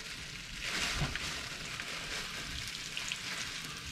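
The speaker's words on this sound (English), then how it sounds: "You can already hear that sizzling away." Floured beef chunks sizzling and frying in a hot pan for stew, a steady broadband crackle with occasional stirring scrapes, close and continuous with no talk.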